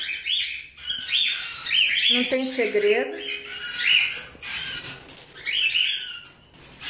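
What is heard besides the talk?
pet birds chirping and flapping wings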